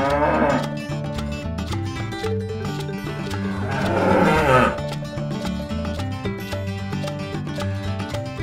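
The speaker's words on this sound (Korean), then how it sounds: "황소예요." A bull moos in long, low drawn-out calls over a steady background of music, the bellow swelling loudest near the middle; a bull in a toy farm diorama.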